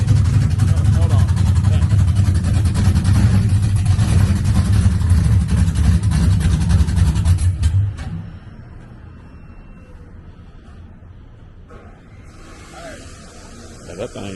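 A Cadillac V engine with fresh muffler work idles and revs loudly and close for several seconds, then cuts off, leaving quiet outdoor ambience with faint voices.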